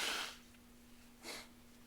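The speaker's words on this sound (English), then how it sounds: "As I blow my nose, give me a minute." A person blowing their nose in two quick bursts, a longer one at the start and a shorter one about a second later, fairly faint with quiet between.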